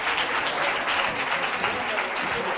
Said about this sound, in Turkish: O güzel alkışlarınızla